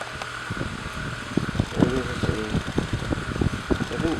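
An Air King 9154 9-inch oscillating table fan runs nearby with a steady airy whir and a faint motor hum, overlaid by scattered bumps and handling noises.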